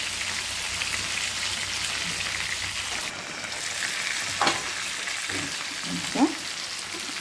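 Sankara fish frying in oil for a Tamil-style fish fry, a dense steady crackling sizzle like rain, with a couple of brief clinks and shifting noises from the pan near the end.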